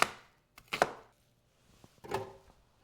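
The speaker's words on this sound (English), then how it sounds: "Got a half a sweet onion here. We're going to rough chop that" Half a sweet onion is rough chopped with a knife on a cutting board: a few sharp, irregular chopping thuds with pauses between, close and without talk.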